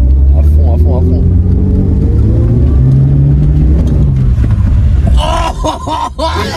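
A car engine roars under hard throttle at close range, a loud continuous drone with rising and falling pitch, while excited voices talk and shout over it throughout.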